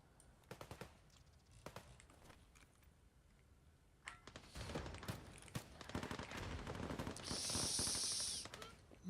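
Automatic gunfire in the shooter game Escape from Tarkov, with scattered sharp shots early on that build into louder, denser bursts of rapid fire.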